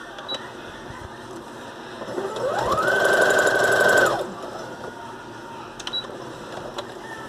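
A sewing machine runs a straight stitch through felt, its motor whirring up into a steady buzzing hum for about two seconds before winding down, with faint handling clicks around it.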